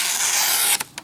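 A Spyderco knife test cut, a short hissing slice lasting under a second, then two quick faint scraping ticks, close and alone.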